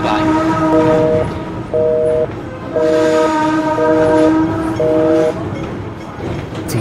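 A running tram sounds five evenly spaced two-tone horn blasts over a loud, continuous rumble of wheels on the rails, heard close by with no speech.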